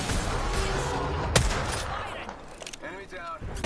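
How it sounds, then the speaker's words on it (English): Rapid video game gunfire crackling in close, dense bursts with a sharp loud shot near the middle, under brief talk from a player. "Shots fired, and they're hitting me."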